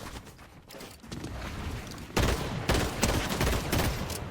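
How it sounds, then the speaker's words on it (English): Rapid pistol gunfire in a Fortnite match during the final circle of a competitive FNCS Grand Finals game, with bursts of overlapping shots and impacts that build louder and denser partway through. "These pistols are definitely dangerous."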